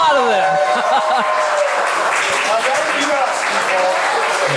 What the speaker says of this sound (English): Let's have a round of applause for, like, is this the entire cast of Bleach?